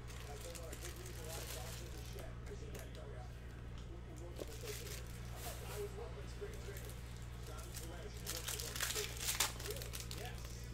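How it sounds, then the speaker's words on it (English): Graded trading cards, among them 2008-2009 Hot Prospects Basketball, sliding out of their packaging with steady crinkling and rustling over a constant low hum, while a voice talks at times. "Let's slide those cards out."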